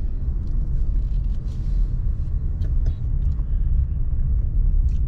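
A car driving through the streets of Goulds and Princeton in southern Miami-Dade County gives a continuous low engine and road rumble from inside the cabin. Faint clicks and small noises sit over the steady drone.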